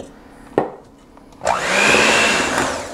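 Electric hand mixer blending the first half of the flour into sugar cookie dough: a brief knock, then a loud steady motor whir that starts abruptly and runs on to the end, with no talking.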